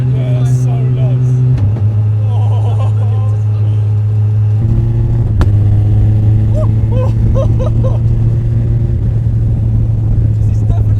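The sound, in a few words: car with 1440cc Hayabusa engine accelerating on test drive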